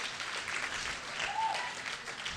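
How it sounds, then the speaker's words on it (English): Faint, distant applause from an audience at an education talk evening, a soft continuous patter of many hands that holds steady without a break. "I just want to give them another round of applause."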